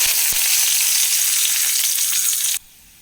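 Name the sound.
chopped onion and curry leaves sizzling in hot coconut oil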